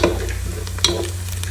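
Hot oil sizzles briefly with a sharp crackle and stirring, close and fairly loud, with no voices.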